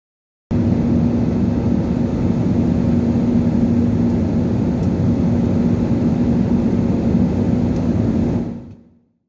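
Inside an AirAsia airliner cabin climbing after takeoff from Cebu, a steady, loud broadband engine and air roar holds with a constant low hum, then fades out at the end.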